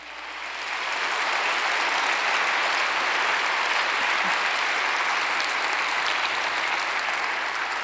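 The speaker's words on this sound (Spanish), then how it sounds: "Dele un aplauso al Señor." A church congregation breaks into applause, swelling within the first second to a dense, steady wash of many hands clapping that stays loud and even throughout, with no voices standing out.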